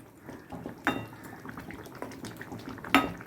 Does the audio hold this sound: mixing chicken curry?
yes